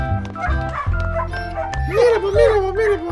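A dog makes excited, happy yips and whimpering barks in quick bursts, close by, with a person's high-pitched voice talking over it.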